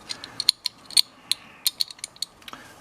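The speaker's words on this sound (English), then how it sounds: "Now we just got to bolt these 2 parts together." Ratchet tightening bolts that join motorcycle luggage mount parts for a Royal Enfield Himalayan, giving a quick, irregular run of close, crisp metallic clicks and ticks with no talking.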